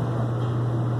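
A Dover Impulse elevator motor in a town hall gives off a steady, even low hum that stays constant through a brief moment, with no talk.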